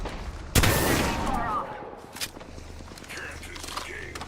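Video game gunfire: one sharp loud shot bursts in near the start, followed by scattered fainter shots and mechanical clicks, with voices talking over it.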